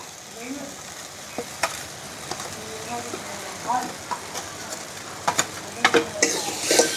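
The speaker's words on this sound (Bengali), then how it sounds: "এটাকে সুন্দর করে একটু ভেজে নেবো" Turmeric and chili fry in a pan over a wood fire outdoors, giving a steady, moderate sizzle punctuated by sharp clicks and scrapes of stirring, with a voice talking underneath.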